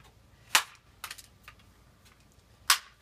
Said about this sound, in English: Last time it was airsoft guns, now it's BB guns.